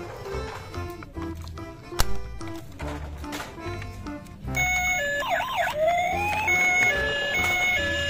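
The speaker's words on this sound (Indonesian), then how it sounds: "Mobil emergensi." An electronic siren from a toy emergency vehicle kicks in partway through, wailing in loud warbling tones over jingly toy music after some earlier clicks and tones.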